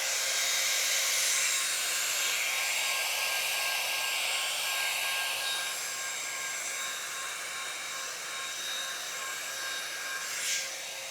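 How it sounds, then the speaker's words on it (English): A blow dryer drying watercolor paint whirs steadily at close range with a bright, airy hiss, running continuously with slight shifts in pitch. "I'm going to use the blow dryer again"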